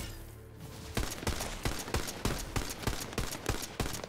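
A gun in the video game Tiny Tina's Wonderlands fires a fast, regular string of punchy shots, about three per second, loud and close after a brief quiet start.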